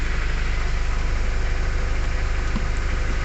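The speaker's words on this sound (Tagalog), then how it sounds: "umaandar na yung makina" A 2008 Ford Escape with the 2.3 engine, suffering a hard start, no acceleration and a P2101 fault, idles in a steady, loud, close rumble with an even pulse throughout.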